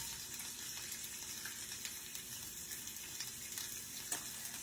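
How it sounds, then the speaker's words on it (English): Sliced red and yellow bell peppers and onions sizzle steadily in a hot pan for fajitas, a close, continuous crackling hiss with small pops scattered throughout. "Peppers and onions cooking up."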